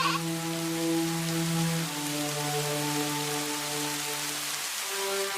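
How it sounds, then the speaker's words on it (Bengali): Steady rain falls and patters on a surface around a goat shed with a leaking roof, a continuous hiss that holds for the whole stretch beneath a sustained tonal drone. "বৃষ্টি হচ্ছে, ওই ঘরে তো পানি পড়ে।"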